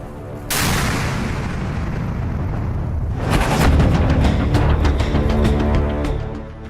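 Heavy booms from a Russian missile attack on Kyiv, Ukraine, roar out in a loud sustained blast that swells again midway, rumbling and crackling without speech.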